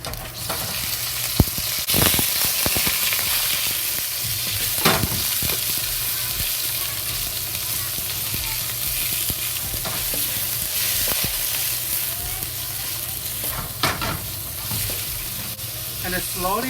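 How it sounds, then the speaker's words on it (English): Ground beef fries in a pan with ginger, hissing in a steady sizzle while a utensil stirs and scrapes it in occasional clacks, close and continuous throughout. "slowly fry the ground beef until the fat in the meat and come out and the meat is fully cooked."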